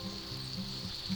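Steady sizzle of sausage, peppers and onions frying in a pan for a frittata, close and continuous with faint bubbling under a bright hiss.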